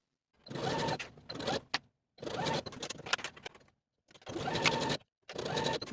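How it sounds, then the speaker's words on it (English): A sewing machine stitches knit fabric shoulder seams on a knit dress in bursts of rapid mechanical whirring. Several stitching runs are separated by short pauses, close and steady, with no voices. "And then sew your shoulder seams with a 3/8 inch seam allowance."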